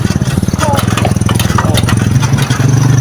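A motorcycle engine ridden by an 11-year-old near a waterfall in Doña Remedios Trinidad, Bulacan, chugs loud and close at a steady low putter, with people talking over it.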